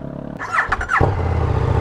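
KTM Super Duke GT motorcycle starting: a low idle-like hum, a brief whirring crank, then the engine catches into a loud, throbbing idle close by.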